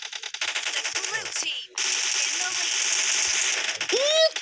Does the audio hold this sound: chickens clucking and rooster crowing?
no